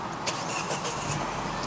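A Peugeot 508 1.6 THP turbo petrol engine starts from the push-start button inside the car, a short muffled crank settling into a low, steady hum, close and moderately loud.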